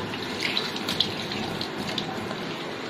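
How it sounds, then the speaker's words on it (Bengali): A little water is poured into fish masala frying in a pan, giving a steady, close rushing splash that runs on without a break. "এখানটায় সামান্য পানি দিয়ে দিব"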